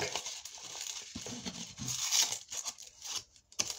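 Crisp crinkling and tearing of the wrapper on an 85% dark chocolate bar as it is opened by hand, close and continuous with a few sharper crackles, fairly quiet.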